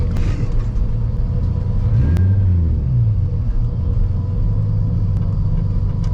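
A turbocharged 800 hp Nissan 350Z accelerates on a street at night, heard from inside as a steady, heavy low rumble with a rising engine note around the middle of the clip.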